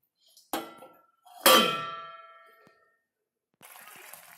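A metal lid set down on a cooking pot of fish simmering with onion, green chili and tomato: two sharp clangs with ringing tails about a second apart, followed by a low hiss.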